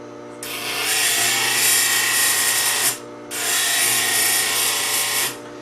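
A Work Sharp 2000KN sharpener grinds steel with a loud, steady hiss-whir in two long passes, a brief drop in between, over a low motor hum.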